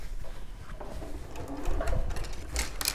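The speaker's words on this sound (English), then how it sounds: "So just with a longer stitch, I'm just going to baste across there." A sewing machine runs a long basting stitch across fabric pieces for a soft bunny toy, a steady close whirring hum that grows slightly louder in the second half.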